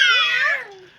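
A child imitates a cat's meow in one short, close, high-pitched cry that slides downward and trails off.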